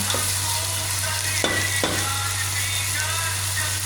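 Chili peppers frying in a hot pan, a steady broadband sizzle with a couple of brief louder crackles or stirring bursts, close and continuous with no talking.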